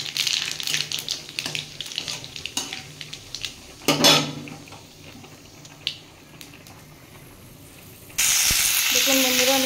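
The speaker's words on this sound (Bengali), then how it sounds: "আমি এর মধ্যে একটু তেজপাতা আর শুকনো লঙ্কা, একটু কালো জিরে ফোড়ন দেবো।" Bay leaf, dried chilli and nigella seeds hit hot oil in a home kitchen: first come metallic clinks and clatter of utensils and a pan, then a sudden loud, continuous sizzle bursts up and holds to the end.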